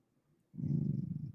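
A dog growls low and close: after a near-silent moment a sustained, rumbling growl starts abruptly and holds for nearly a second before trailing off. No one speaks.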